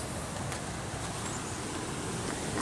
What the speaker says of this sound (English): That would be flowing water, yes.